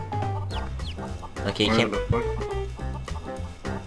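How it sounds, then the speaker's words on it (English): Chickens in the online game Mabinogi cluck in short, rapid bursts, close and clear, while two people talk over them. "Watch me murder these chickens."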